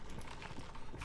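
Footsteps in the Overwatch multiplayer shooter, a quick series of close, clattering steps heard alone over steady game noise.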